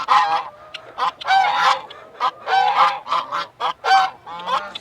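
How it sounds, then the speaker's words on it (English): A flock of geese honks loudly and continuously, with overlapping harsh calls coming close together in an agitated chorus. "That's a mouthy bunch of geese. I hate them geese."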